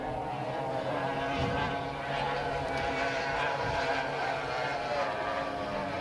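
A racing speedboat's engine drones and revs on a bay during a speedboat race meeting, a continuous heavy motor roar carried from a distance with a slight wavering pitch and no pauses.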